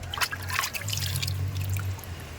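Water trickles and splashes steadily up close while quail meat is washed, with wet handling noises and a low background hum, no talking.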